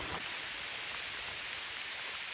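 Steady rain falls during a wet hike, a dense, even hiss of drops on leaves and ground that stays constant and close throughout, with no voices.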